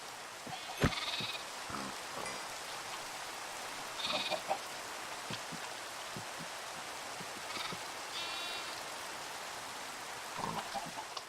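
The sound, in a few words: sheep bleating in the video game Minecraft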